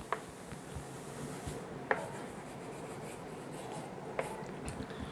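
A pen scratching across paper as a name is handwritten, faint and close, with soft intermittent strokes and a few small taps in a quiet room.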